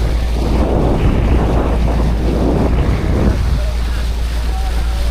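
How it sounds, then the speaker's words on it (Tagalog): Strong wind buffeting a microphone on a boat on the Pacific Ocean, a loud continuous roar with rumbling gusts and wash of sea water underneath. "Mahangin pala dito."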